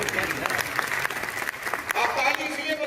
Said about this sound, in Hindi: आप ताली इसलिए बजा रहे हो